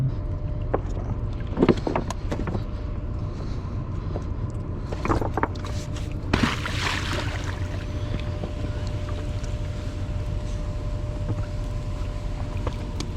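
A crew boat engine rumbles steadily as it passes on the Mississippi River at record low water, with wind buffeting the microphone and a few knocks.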